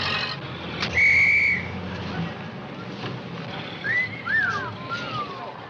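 Men whistle at women in an old Hollywood film scene, several short wolf-whistle tones rising and falling over outdoor wind and background noise, fairly close.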